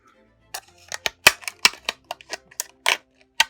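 Sharp snipping clicks of scissors cutting through a thin, flexible plastic lid, a dozen or so irregular snaps close up, with quiet pauses between cuts.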